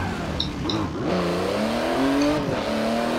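A race car in Forza Motorsport 7 revs and climbs through the gears, the engine tone rising steadily with brief tire squeals and a gear change, loud and continuous with no talk.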